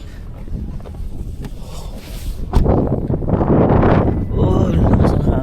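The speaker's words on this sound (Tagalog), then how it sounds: "Oh, lakas ng hangin." Strong gusty wind during a winter storm in Calgary, Canada, buffeting the microphone. It starts quieter and then roars up in loud, rumbling gusts, with people talking intermittently nearby.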